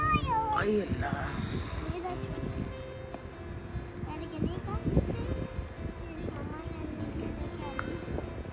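A cat meowing nearby, several short rising meows early on, over steady wind and outdoor background noise with people talking.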